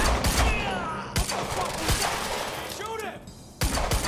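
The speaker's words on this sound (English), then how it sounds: "Open fire!" Gunfire in the game Quantum Break: several sharp volleys of shots at irregular intervals, with a brief voice heard between bursts.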